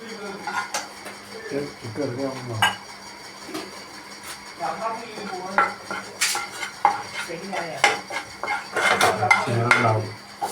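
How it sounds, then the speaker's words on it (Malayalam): Vegetables sauté in butter in a pan as a side for a chicken sizzler, with busy metallic scraping and clinking of a utensil over a low sizzle while a person talks throughout. "ആദ്യം നമുക്ക് വെജിറ്റബിൾ ബട്ടറിൽ ഒന്ന് സോട്ട് ചെയ്ത് വെക്കാം"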